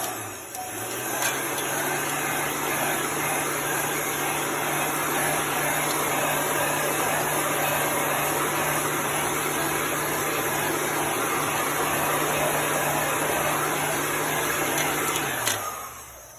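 A heat tool or hair dryer blowing steadily on a freshly applied chalk paste transfer, a loud continuous whooshing hum with a constant motor whine, running unbroken for about fifteen seconds before cutting off.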